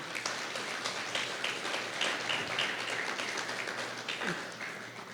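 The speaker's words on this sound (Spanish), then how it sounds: "Démosle un fuerte aplauso al Señor" A congregation at a Spanish-language church service gives a sustained round of applause, soft and somewhat distant, a dense steady patter without voices on top.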